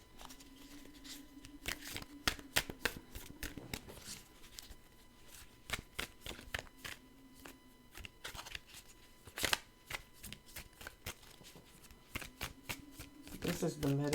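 Cards from a tarot Medicine Woman deck are shuffled close up in repeated riffling bursts with brief pauses, and a low hum or voice sits faintly underneath.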